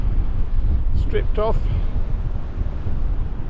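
Strong wind buffets across a very windy beach, a steady low rumbling rush close to the ear, with a brief voice speaking over it partway through.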